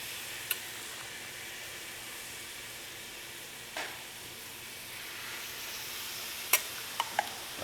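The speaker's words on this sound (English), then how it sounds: "So we're just gonna saute this. It's gonna sizzle." A soft, steady sizzle of chicken thighs sautéing in a pan, with a few sharp clicks and taps of utensils scattered through it.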